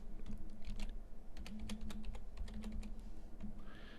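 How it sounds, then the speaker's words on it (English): Keys tap on a computer keyboard as a password is typed, a soft irregular run of clicks over a low steady hum, fairly quiet and close. "So I'm going to type in a password and then confirm the password."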